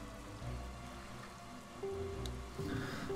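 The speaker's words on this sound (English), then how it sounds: "But, like, how long is it gonna be raining, Fishy?" Soft, steady rain patters in the video game Wind Waker HD, a quiet, even hiss with low game music tones drifting underneath and no talking.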